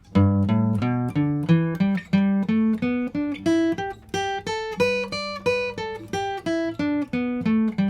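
Guitar fretboard exercise climbing through octaves, with a steady run of about sixteen plucked notes, each ringing briefly before the next, played loud and close with no talking.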